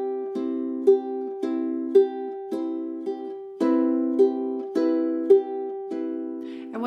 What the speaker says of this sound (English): If you'd like to try a little bit of more finger picking on this song